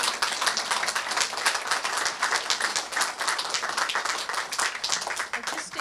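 Audience applause at a multicultural community fundraiser for a national Holocaust monument, a steady dense patter of many hands clapping throughout, fairly close and even in level.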